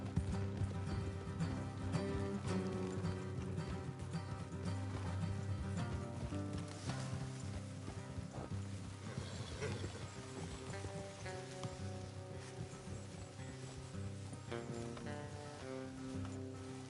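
Horses' hooves clop along at a walking pace beneath a bed of music in Red Dead Redemption 2, the rhythmic footfalls soft and continuous.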